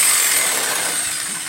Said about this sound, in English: So we're just gonna make the whole box with the jigsaw